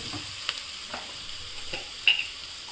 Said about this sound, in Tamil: இதுவும் எண்ணெயில் சேர்ந்து நல்லா அதோடு வதங்கட்டும்.